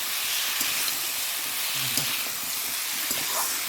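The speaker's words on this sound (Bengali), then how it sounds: "এবার আমি কাঁকড়াগুলো দিয়ে দেবো, কষাতে হবে, না কষালে ভালো লাগবে না।" Crabs sautéing in a pan, a soft, continuous sizzle and hiss of frying with a few faint stirring clinks and scrapes, close and fairly quiet, no talking.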